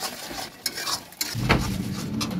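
Duck meat is stirred in oil in a pan, with sharp utensil scrapes and knocks against the metal over a steady, louder sizzle that swells in the second half, heard up close without talking.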